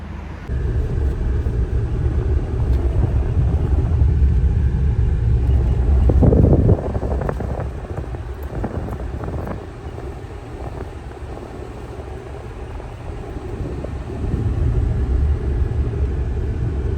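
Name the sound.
car driving home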